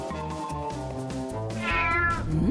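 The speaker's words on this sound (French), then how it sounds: "Oh non! Le chat est réveillé!" A cat in the video game Poppy Playtime 3 meows in a run of short, tonal cries, then rises into a longer, louder drawn-out wail near the end, heard alone and close.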